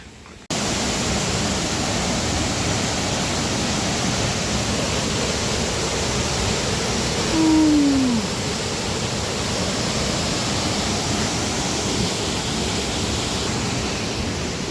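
A waterfall behind the Balu Mama temple near Amboli roars in a steady, dense rush of falling water that starts abruptly and holds constant throughout, with no voices over it.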